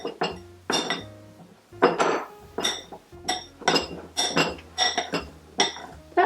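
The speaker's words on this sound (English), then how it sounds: "we will cut in 2 tablespoons of shortening. And mix this until it's the consistency of cornmeal." A utensil clinks against a bowl in uneven, repeated strikes while shortening is cut into pie dough for a shoofly pie. The scraping and tapping is close and fairly loud, with no talking.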